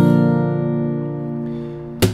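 A single acoustic guitar chord strummed once with the right hand rings out loudly and slowly decays, cut off near the end by a brief sharp knock.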